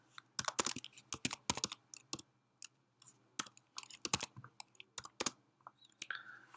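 A computer keyboard clatters with quick, irregular bursts of close keystrokes as a page title is typed into HTML code, with short pauses between words; quiet room, no talking.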